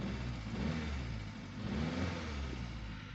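A 2005 Vauxhall Astra H car engine revs up and eases back in steady surges, a close mid-pitched roar with no talking.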